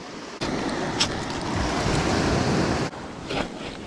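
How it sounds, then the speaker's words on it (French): Sea waves washing onto a beach as the tide goes out, a steady rushing surf with wind noise buffeting the microphone and a couple of sudden dips and bumps in the level. "un petit coup de vague en trop et c'est pour moi"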